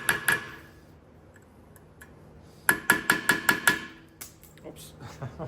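Metal-on-metal tapping as a bit is struck into a rusted rear brake screw on a 2011-2015 Kia Optima or Hyundai Sonata, a couple of early taps then a quick run of about six sharp, ringing hits, close by.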